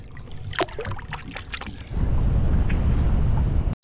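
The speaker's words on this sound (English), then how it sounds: "Check out how that wind's sounding." After a few seconds of water sloshing, a sudden loud roar of wind buffeting the microphone takes over and continues steadily to the end.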